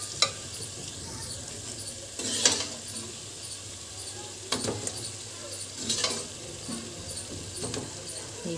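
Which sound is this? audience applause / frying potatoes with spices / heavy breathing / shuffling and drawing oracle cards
frying potatoes with spices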